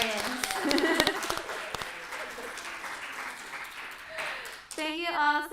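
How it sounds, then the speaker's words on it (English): An audience applauding for Slide Slam artists, a crowd clapping under and between a speaking voice, fading midway and rising again near the end. "Another round of applause for all our Slide Slam"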